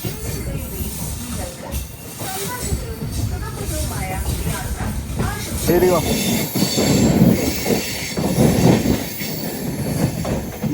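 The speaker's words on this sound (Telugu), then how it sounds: "అటు సైడ్ ఐసీఎఫ్ కోచెస్తో ట్రైన్ వెళ్ళిపోతుంది చూడండి" A passenger train, the Ernad Express with ICF coaches, rolls past nearby with rumbling wheels, rhythmic clatter and squealing, while a person speaks over the passing coaches.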